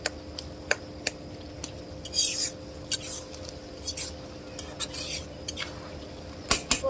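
A spoon stirs taro stalks and a broken-up hilsa fish head in a pan, giving scattered sharp scrapes and clinks against the metal over a faint, steady background hiss, with no talking.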